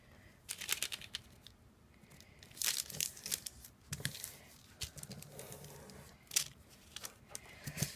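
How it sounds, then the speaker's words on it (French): Paper being folded and creased to line a soap mould, heard as close, quiet crinkling and rustling in short bursts separated by brief pauses. "C'est important de bien marquer le pli."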